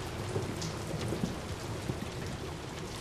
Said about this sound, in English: I mean, it's raining outside.